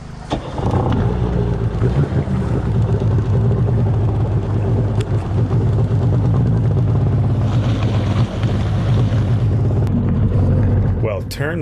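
A 1995 Sea-Doo XP 720 jet ski engine idles steadily and loudly at 1500 RPM throughout, a constant low rumbling drone with no talking over it.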